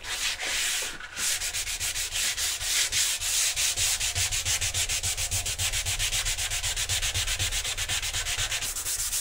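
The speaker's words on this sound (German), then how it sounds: "Schleifen." Sandpaper works along the sides of a wooden bow arm in quick, regular rasping strokes that run continuously for about nine seconds, close and clear with no talking.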